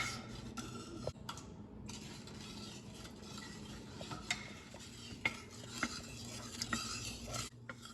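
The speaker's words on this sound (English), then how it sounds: "Now I'm gonna stir it. So always stir it until it dissolves." Sugar being stirred to dissolve it for lemonade, a faint, steady swishing with occasional light clinks of a spoon against the container, quiet and close with no talk.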